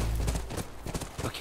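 Horse hooves clip-clop at a steady walking rhythm in The Last of Us Remastered on PS4, close and fairly loud, arriving at a ranch with no talking over them.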